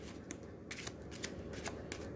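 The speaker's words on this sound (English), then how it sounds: "This is the giant spell deck. So I'll give it a shuffle." A giant deck of spell cards for the Eldritch Horror board game is shuffled close up, with quick riffling bursts of cards slapping together several times in a row.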